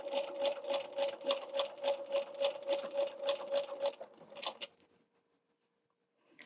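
A sewing machine stitching quilt binding with a stitch-in-the-ditch foot, a close, rapid rhythmic clatter with a steady pulse that slows and then stops, leaving quiet.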